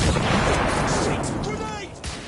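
A grenade blast amid gunfire in The Order: 1886, a loud dense burst of explosive noise and rumbling crackle that slowly tails off, with a shouting voice mixed in.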